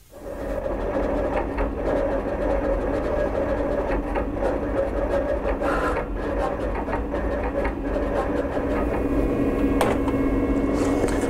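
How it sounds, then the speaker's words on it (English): A Roland GX24 vinyl cutter runs a job on Spectra Eco-Film, its steady mechanical whir holding throughout with small clicks and shifts of the carriage, close and continuous with no talking. "So we'll go ahead now and send our job to the cutter."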